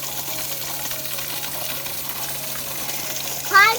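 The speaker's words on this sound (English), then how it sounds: "So there's a small waterfall." A small waterfall in the Lake District, UK, pouring with a steady rushing gush of water, close and continuous, with a brief sharper splash near the end and no talk.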